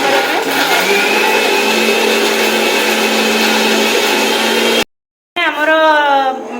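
Mixer grinder blending a masala of cashew, garlic, green chilli, ginger and tomato runs loud and steady in a kitchen, then cuts out briefly and restarts with a rising, whining motor pitch.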